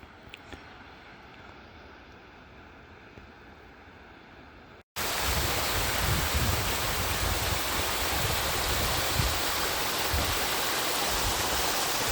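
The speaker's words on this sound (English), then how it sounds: "Nice little waterfall." Rushing water of a small waterfall in Grand Teton National Park near Lake of the Crags, a loud, steady broadband roar close by that fills the second half after a quieter stretch of distant flow.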